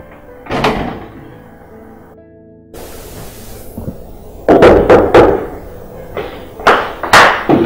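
A front door opens in a home as someone answers a visitor, giving a few sharp knocks and thunks of handle and wood with a rattle, close and loud, with no talk over it.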